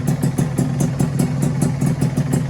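Two-stroke motorcycle engine idling steadily after a cylinder block oversize, running on premix with Castrol A747; a close, loud, even putter with a regular pulsing beat and no talk.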